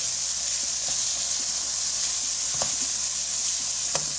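Masala bhindi, okra coated with turmeric and red chili powder, sizzles steadily in a pan while being stirred, with a constant frying hiss and a few soft clicks of a spoon against the pan.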